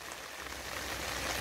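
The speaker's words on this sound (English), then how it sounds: "The rain is pounding." Heavy rain pounds on a tent during wild camping, a dense, steady hiss of drops that stays loud and unbroken throughout.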